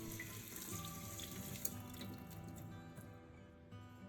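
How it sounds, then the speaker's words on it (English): Cold tap water runs steadily into a kitchen sink while cauliflower is rinsed, a soft continuous splash and trickle throughout, fairly faint and heard on its own. "rinse the cauliflower under cold running water to remove the salt and any"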